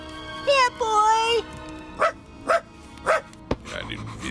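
An invisible cartoon dog barks in a short burst of several yaps and yips, close and clear, following a brief stretch of voiced sound that leads into the barks.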